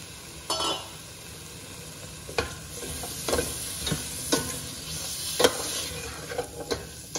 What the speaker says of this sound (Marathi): तर आपण थोडासा जर मसाल्यात परतून घेतला तर पटकन शिजतो